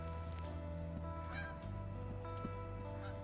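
Geese honking repeatedly in a steady, overlapping chorus during a goose hunt, fairly close, with a low continuous hum underneath.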